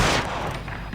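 A sharp gunshot in L.A. Noire cracks at the start and then rings out in a short rumbling tail.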